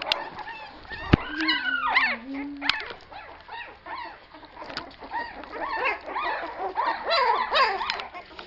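A dog barks and yelps repeatedly in bursts, fairly close, over an outdoor background with birds chirping.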